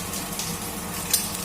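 Bay leaf, dried chilli, clove, cinnamon and cardamom fry in hot oil, giving a soft, steady sizzle close by with a small crackle near the end.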